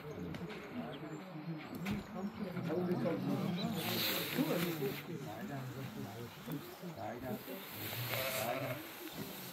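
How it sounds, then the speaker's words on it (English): Escaped sheep in Ireland bleat repeatedly at close to middle distance, their calls overlapping with murmuring voices nearby. "These were the sheep that got away pouting."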